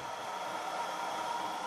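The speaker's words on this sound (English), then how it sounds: "let's cool down your heat gun" A heat gun, used for PS3 capacitor repair work, blows cold air while cooling down, making a faint, steady whooshing hiss like a hair dryer with no change across the brief stretch.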